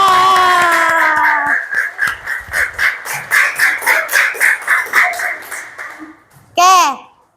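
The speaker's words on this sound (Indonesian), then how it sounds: "Tepuk tangan kita semua." Children in a classroom clap together in a quick rhythmic pattern of sharp, evenly spaced bursts, with voices heard before the clapping starts and a loud cheer or shout rising near the end.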